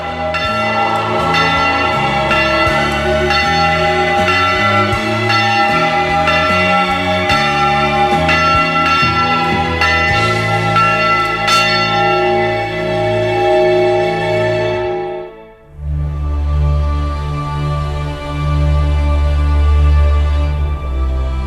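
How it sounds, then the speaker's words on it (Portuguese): Enormous bells ring from the tall towers of a Pomeranian community church, with loud, resonant strikes layered into a rich, sustained peal that swells, dips briefly and then continues humming. "lindas igrejas, com torres altas e sinos enormes que soam entre vales e montanhas"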